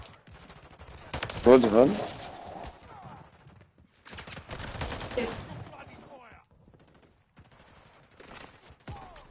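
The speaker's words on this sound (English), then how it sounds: "Why are you shooting me?" Video game gunfire rattles in short automatic bursts, loud and close at first, then returning in further volleys, while someone talks over the shots.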